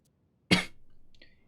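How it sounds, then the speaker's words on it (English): A single sharp throat-clear or cough from a man sounds up close, abrupt and loud, trailing off quickly into quiet, with a faint brief sound afterward. "Stop clearing my throat."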